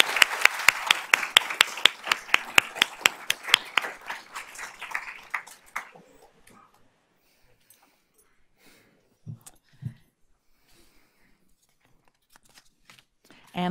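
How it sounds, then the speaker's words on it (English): Applause breaks out at a school board of trustees meeting during an honors and achievements presentation, a burst of dense clapping lasting several seconds before fading into quiet room sounds with a few scattered claps. "let's give them a round of applause while they're getting their picture made"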